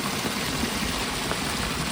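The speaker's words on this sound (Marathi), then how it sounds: "पावसाचं पाणी शेतामध्ये जात आहे आता" Rainwater runs steadily into a farm field in Kankavli, a continuous broadband rush of flowing water that stays even and close throughout, with no voices.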